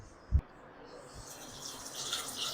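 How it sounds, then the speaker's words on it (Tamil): After a single soft thump, water runs into a mixer jar for a bone soup, a gentle hissing flow that grows a little louder toward the end. "அதளவுக்கு தான் நம்ம தண்ணி ஊற்றணும்."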